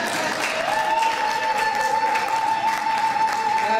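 Church congregation applauding during a French-language sermon, a dense continuous clapping wash with a sustained tone ringing over it, steady and fairly loud throughout.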